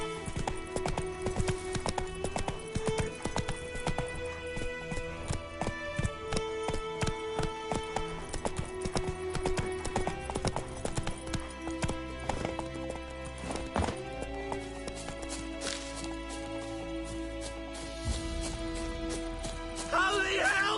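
A horse called Roach gallops in The Witcher 3 on PS5, with rapid continuous clip-clop hoofbeats and occasional whinnies over game music and effects.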